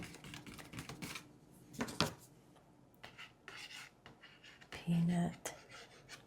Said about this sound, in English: Tapping.